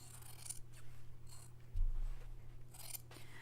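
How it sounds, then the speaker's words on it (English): Scissors snip through craft material for a miniature townscape cone-shaped cape, giving a few quiet, crisp cuts spaced apart over a low steady hum. "I have scissors that can cut it"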